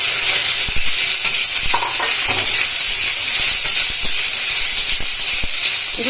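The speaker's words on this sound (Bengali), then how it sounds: "তেল গরম হয়ে গেছে, সয়াবিনগুলো ভেজে নেবো।" Soya chunks frying in hot oil in a wok, a loud, steady, close-up sizzle with a crackling hiss throughout and occasional soft ticks and pops of stirring.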